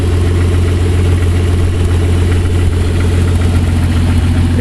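A 1982 Ford Granada engine running on propane LPG through a simple propane carburetor and mixer, with no emission controls, idles as a loud, steady, even rumble close by, with no talking over it.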